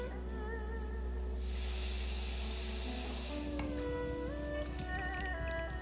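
Shrimp deep-frying in hot oil for chili shrimp, giving a bright, dense sizzling hiss that swells for a few seconds and then eases off, over steady tonal background sound.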